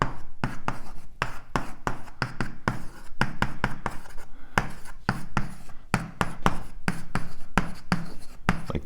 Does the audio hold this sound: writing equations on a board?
yes